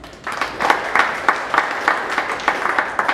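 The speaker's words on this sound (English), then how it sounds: "Let's give Tret a round of applause" An audience at a 1 Million Cups startup meetup in Dallas applauds as a Capital Factory events coordinator comes up. Individual claps ring out in a clear, fairly regular beat, sharp and close, across the whole stretch.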